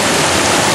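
Fast-flowing water of the upper Ogosta river rushes steadily and loudly, a dense broadband roar with no breaks, close to the listener and alone without voices.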